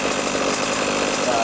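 A Goped scooter's small two-stroke engine idling with an ADA clutch fitted, a loud, steady, buzzing drone close by for a short moment.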